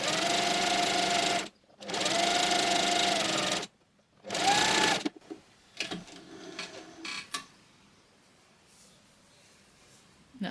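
A sewing machine stitches the shoulder seams of a top in three loud, steady running bursts separated by brief stops, then falls quiet with soft handling clicks and rustles.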